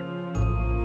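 A single bright electronic phone message notification chime rings out and holds, a short melodic alert tone with a clear ringing tail.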